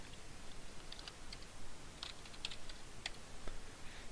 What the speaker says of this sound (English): So to enter this mode, we'll type in passwd.